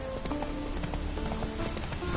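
Hoofbeats of the horse Roach from The Witcher 3, a steady clip-clop rhythm running throughout over a dense bed of game music and ambience.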